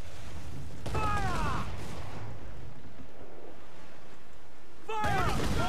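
Ship cannons fire in a naval battle in Assassin's Creed IV: Black Flag, a heavy broadband blast near the start and another near the end, each followed by a voice shouting.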